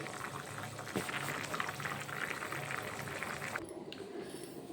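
Mung dal vadi curry simmering in a covered pot, a soft continuous bubbling and gurgling, fairly faint and steady throughout.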